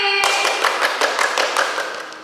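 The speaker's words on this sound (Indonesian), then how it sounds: "Tepuk rame-rame" A group of Sunday school children claps together in a quick, even rhythm of crisp, close claps after a brief tone at the start, fading slightly toward the end.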